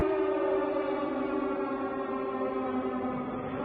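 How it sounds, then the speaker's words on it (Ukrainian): A steady, droning air raid siren wails continuously at an even pitch in Moscow, loud and slightly echoing, with no voices. "У кадрі лунає гучний сигнал повітряної тривоги в Москві."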